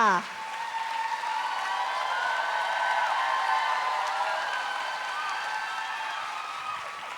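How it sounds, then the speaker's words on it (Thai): An audience applauds for a Hall of Fame artist at the final of The Voice Thailand 5, a steady wash of clapping that lasts the whole stretch beneath sustained music and some voices. "ขอเสียงปรบมือดังๆนะคะ ให้กับศิลปิน The Voice Hall of Fame"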